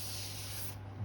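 Isopropyl alcohol sprays onto turned greenheart wood in a single short, close hiss that cuts off abruptly.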